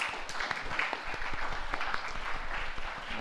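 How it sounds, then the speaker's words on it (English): A school morning assembly claps for Mr. Miyazaki, a steady crowd of hands patting away evenly for a few seconds with no one speaking over it. "So let's give Mr. Miyazaki a round of applause."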